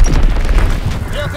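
A Fritz X guided bomb detonates in Call of Duty WWII Domination mode, a loud, deep boom rumbling over about a second and a half, with game voice chatter running beneath it.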